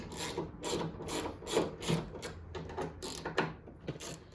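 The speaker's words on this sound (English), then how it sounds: "So now we'll use our T30 Torx to remove the latch mechanism." A T30 Torx driver works on the rear door latch mechanism of a GX470, producing quiet, close ratcheting clicks and gritty scraping in uneven bursts.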